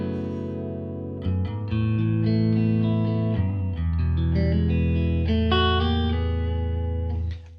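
A Yamaha Revstar electric guitar plays a clean tone through a Fender Deluxe Reverb–style amp model on a Helix with light reverb, uncompressed: sustained chords and melodic notes ring out loud and close, changing every second or so.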